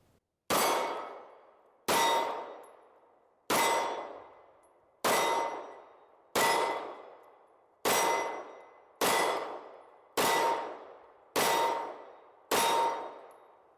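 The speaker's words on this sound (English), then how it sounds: "I'm just gonna shoot at this left target with the CC9 and then the right target with the Prime." Ten pistol shots ring off steel targets at a steady pace, alternating between an H&K CC9 and a Canik MC9 Prime. Each hit lands as a sharp metallic clang that decays over about a second.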